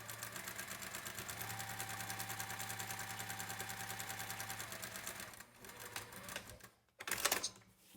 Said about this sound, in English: flip it over and sew along that solid line between 1 and 2